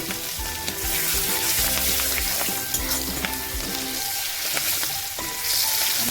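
Chopped green chilies and chili powder sizzle and fry in a pan of oil for a fish curry, a steady close crackle with stirring clatter throughout.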